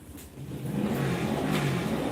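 A motorbike engine revs steadily and fairly close, holding a rising, sustained drone for about two seconds with no talking over it.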